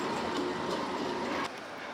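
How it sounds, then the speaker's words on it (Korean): A street tram in Turkey rolls along rails set in the road, producing a steady rumbling rail noise with faint rhythmic clicks that drops slightly in level partway through. "도로 위에 레일을 따라 운행하는 지상철이다."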